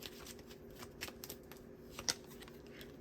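Tarot cards being shuffled, a soft, close series of quick riffles and flicks with a few sharper snaps, faint and without speech.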